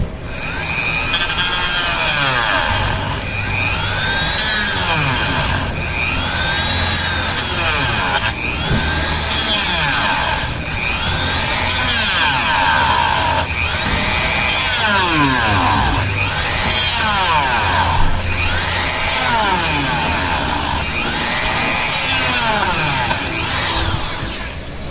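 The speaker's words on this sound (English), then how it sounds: "we are going to use this Dremel tool that I have. Yep. And we're going to create that hole." A Dremel rotary tool cuts a hole in a plastic LEGO figure with a loud, continuous high whine. The whine rises and falls in repeated passes of a few seconds each, close to the microphone.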